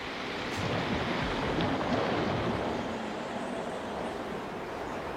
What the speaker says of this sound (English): It's good wind at the moment, we can fly the kite.